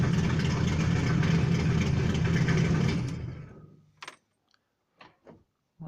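An old barn-find car engine runs loud and steady at idle while warming up, then cuts off abruptly around the third second, leaving a few faint clicks and knocks.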